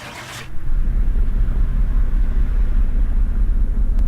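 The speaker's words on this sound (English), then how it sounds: "And let's start the car." A Ford F250 pickup engine in Car Mechanic Simulator 2018 fires up after a brief hiss and settles into a loud, steady low rumble that runs to the end.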